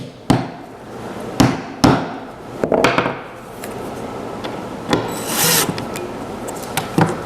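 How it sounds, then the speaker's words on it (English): A hammer taps screws into wood while a camp or shop stool is built, sharp knocks at irregular intervals with softer rubbing and handling noise between them, close and loud. "The way to start these screws is to tap them a little bit."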